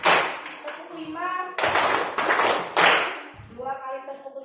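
Hands clap in a counted clapping game, broadband bursts in quick groups with chanted counting voices between them, in a lively indoor setting.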